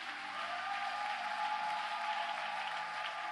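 A church congregation applauds and cheers for Jesus in a steady, dense wash of clapping and crowd noise that holds evenly throughout.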